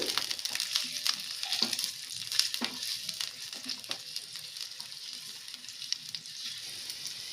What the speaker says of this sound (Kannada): ಈ ಪೊಟ್ಯಾಟೊ ಹಾಕೊಳ್ತಾ ಇದ್ದೀನಿ. ಈಗ ಇದು ಚೆನ್ನಾಗಿ ಫ್ರೈ ಆಗಲಿ.